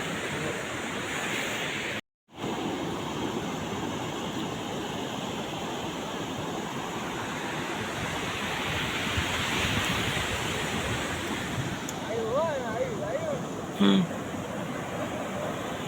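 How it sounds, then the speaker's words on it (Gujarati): Sea waves roll onto the shore at Somnath near Veraval, a steady washing surf roar that swells slightly midway, with a brief cutout early and a few faint voices near the end. "જો મોજા જુઓ તમે જો આ મોજું હાલ્યું આવે છે"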